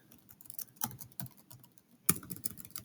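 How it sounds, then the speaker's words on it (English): Quiet, irregular clicks of a computer keyboard as a short sentence is typed, with bursts of keystrokes separated by brief pauses. "I'm going to type in a sentence."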